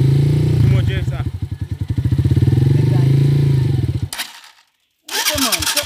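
A 150cc motorcycle starts and its engine chugs and revs loudly up close for several seconds, cutting out briefly before picking up again as it is ridden, with voices talking over it.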